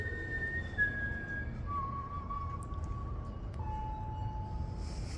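Someone whistles softly in long, drawn-out notes that step downward in pitch, faint over a low background rumble.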